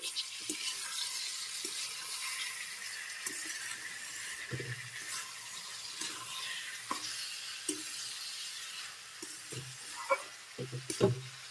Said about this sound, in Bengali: ভালো করে নেড়েচেড়ে মিশিয়ে নিচ্ছি।